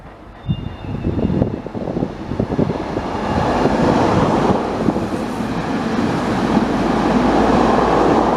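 A train rolls through the Le Bourget gravity marshalling yard in Île-de-France, a steady close rumble of wheels and cars that builds after the opening seconds and holds loud and continuous, with wind buffeting the microphone.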